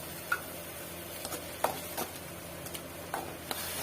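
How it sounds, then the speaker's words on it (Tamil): Ground tomato sautéing with onions in a pan for bombil karuvadu thokku, a soft steady sizzle with occasional light utensil ticks and scrapes, close and fairly quiet with no talking. "தக்காளி வதங்கிட்டு இருக்கு."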